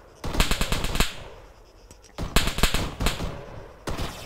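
Bursts of automatic gunfire from the Arma 3 video game: a loud rapid volley, a pause, then several more close, sharp strings of shots crackling in quick succession.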